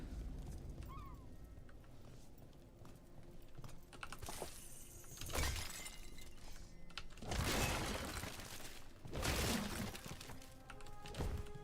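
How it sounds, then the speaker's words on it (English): Wooden boxes being smashed in Dragon Age: The Veilguard, several separate crashing and splintering bursts spaced a few seconds apart over a low game ambience, fairly faint overall. "Just heard smashing all the boxes"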